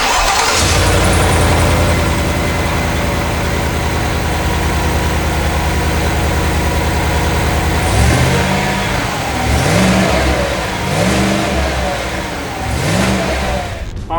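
A 2021 Cadillac Escalade fires up with a loud starter crank into a steady idle, then its engine revs up and down several times in rising bursts, close by and without talk.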